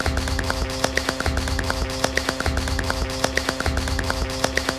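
Rhythmic tapping drum roll of steady, evenly spaced light taps over a sustained tonal hum, the taps repeating continuously and fairly close, from the Australian reboot of The Office.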